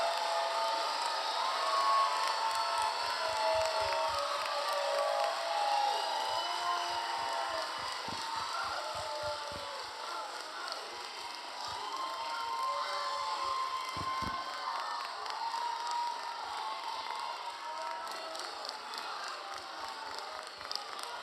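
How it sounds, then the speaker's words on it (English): A crowd applauds and cheers for a graduating 8th grade class at a promotion ceremony, a long, steady roar of clapping and shouts heard from a distance, sustained throughout. "One more round of applause, as loud as you can, for our 2023 8th grade graduation class."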